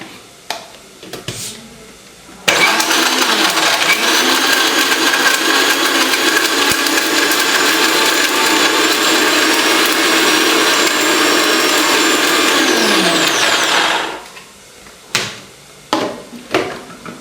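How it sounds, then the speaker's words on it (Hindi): A ZunVolt 750W mixer grinder runs on coconut pieces with a loud, steady whirring roar that holds for about twelve seconds before spinning down, with brief clatters and knocks before and after. "तो ये बहुत ही पावरफुल मिक्सर ग्राइंडर है और 750 वाट्स"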